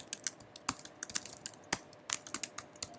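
Rapid typing on a computer keyboard while coding, with irregular clusters of sharp, close key clicks and brief pauses, no talking.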